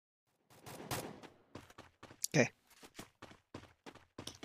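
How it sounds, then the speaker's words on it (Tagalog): Gunfire in Garena Free Fire, a few scattered shots and one sharp burst in the middle, heard under someone talking through most of the stretch. "Wala namang kalaban, bumabaril-baril siya."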